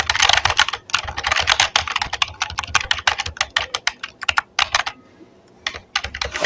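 Rapid computer keyboard typing, close and steady with dense clattering keystrokes, a few brief pauses near the end, no voices.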